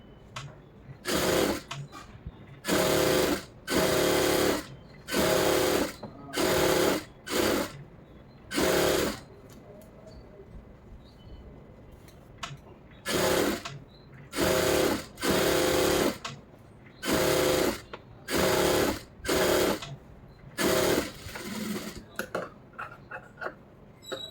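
Close, loud bursts from a sewing machine stitching the lining of a blouse, about a dozen runs of one to two seconds each in an irregular start-stop rhythm, with quiet handling noise in the pauses.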